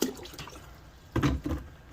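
Vinegar poured into the water of a canning pot used for dill relish, in a hard-water home kitchen: short, soft splashing bursts of liquid, fairly close and quiet, with no talking.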